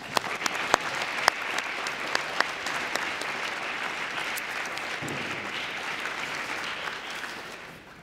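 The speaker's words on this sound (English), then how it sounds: "let's give them another round of applause" An audience at a high school awards ceremony at Black River Public School gives a full round of applause, dense and even, with a few sharp claps standing out early before it tapers slightly at the end.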